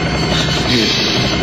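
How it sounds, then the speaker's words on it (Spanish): A helicopter flies low overhead during a staged raid on the Japanese embassy residence in Peru, its rotor roar loud and constant throughout, close and unbroken, with no one speaking over it. "¿Qué hace un helicóptero aquí? Está volando demasiado bajo."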